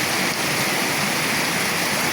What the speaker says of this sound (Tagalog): Pag ganito lang na bagyo, pure ulan lang, walang hangin